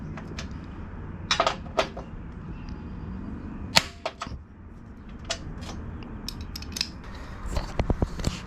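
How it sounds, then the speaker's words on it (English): Sharp metallic clicks and ratcheting taps from tightening roof rack nuts with the supplied tool on a Rhino-Rack installation on a 2-door Jeep Wrangler JL, scattered irregular bursts close to the microphone. "I have every single nut inserted and tightened up all the way"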